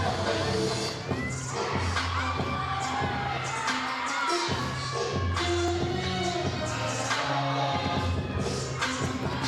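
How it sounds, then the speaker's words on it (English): Teammates cheer and shout at a college gymnastics meet, a loud continuous crowd roar with whoops and children-like shrieks rising and falling throughout the arena. "See Hallie, who just competed, is cheering already"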